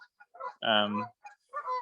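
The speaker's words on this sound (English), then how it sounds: "Some very angry Canada geese interrupting us." Angry Canada geese honk loudly and close by in a burst of short calls, with one longer, strong honk in the middle.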